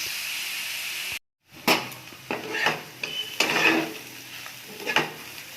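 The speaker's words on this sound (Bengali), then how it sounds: "তেল গরম হয়ে গেছে, এর মধ্যে কালো জিরে ফোড়ন, কাঁচা লঙ্কা ফোড়ন দিয়ে লাউয়ের খোসাটা দিয়ে দিয়েছি" Steady hiss of bottle gourd peel frying in hot oil with nigella seeds and green chillies, with intermittent clinks and scrapes of a spatula stirring in a pan.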